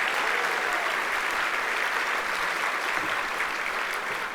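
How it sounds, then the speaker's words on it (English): Audience applause at a 2019 gala after a Sac State jazz combo performance, a dense, even wash of many hands clapping continuously at steady loudness throughout. "So let's have a round of applause."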